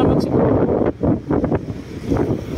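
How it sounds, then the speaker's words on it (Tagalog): Strong sea waves near a yacht club shoreline during monsoon weather, a loud rough rush of surf and water buffeted by heavy wind noise on the microphone, with faint voices. "kasi ayan o, malakas yung alon"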